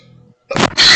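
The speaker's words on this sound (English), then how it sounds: "That's a big sneeze." After a faint murmur and a short pause, a sudden loud, breathy burst rings out close by, a forceful sneeze in two quick parts.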